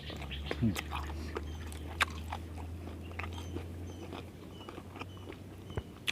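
Close, crunchy chewing and biting of duck larb repeats irregularly while people talk quietly alongside.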